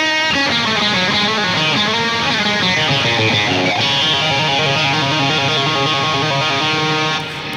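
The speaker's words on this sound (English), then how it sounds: "Now, I really like opening that Noir on top of it," Electric guitar through a Noir pedal stacked on an Ultraphonix overdrive, a loud, bright, biting high-gain tone with ringing sustained chords and quick repeated picked notes, played alone.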